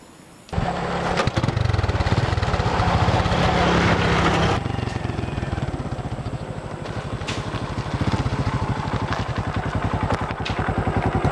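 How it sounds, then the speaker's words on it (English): A motorcycle in the Philippines starts up and rides off, its engine running loud and close with a steady, rattly drone that continues throughout. "this is our main means of transportation here in the Philippines. It's the motorcycle."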